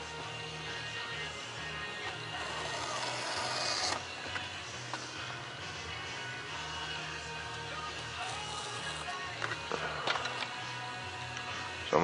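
Cutting out a 28 mm thrust tube opening in a plan, a steady continuous rasping cut with a brighter, harsher stretch early on, then softer scraping with a few sharp ticks, close and alone.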